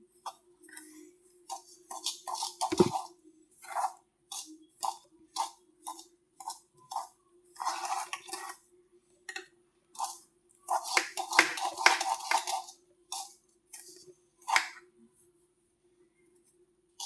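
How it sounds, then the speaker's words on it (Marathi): Sugar and cardamom powder being whisked into shrikhand, heard as a run of sharp, irregular clicks and taps against a bowl with a faint hum underneath, close and fairly quiet. "आता हे आपल्याला चांगलं फेटायचं आहे."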